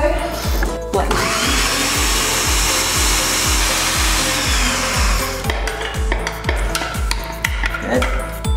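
A countertop blender whirs loudly and steadily through protein pancake batter, a continuous motor roar lasting several seconds with rhythmic low pulses before winding down.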